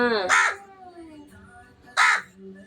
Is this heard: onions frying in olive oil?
no